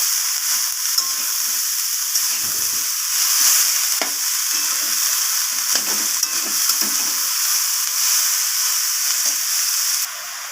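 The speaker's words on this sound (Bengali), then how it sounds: "বাঁধাকপিটা দেওয়ার পর আমি সব কিছুর সাথে এইভাবে বাঁধাকপিটাকে মিশিয়ে নিয়ে এইভাবে কষাতে থাকবো" Cabbage stir-fried in a pan, giving a loud, steady sizzle and hiss with intermittent stirring scrapes throughout, with no talk over it.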